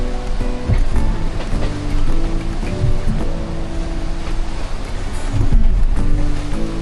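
Confused seas slap and wash around a Nautitech 40 sailing catamaran as waves curve around Tahiti, a steady loud rush of water against the hulls with surging swells and no talk.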